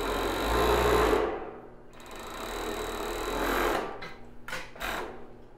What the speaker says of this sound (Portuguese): Só vou passar uma costura aqui.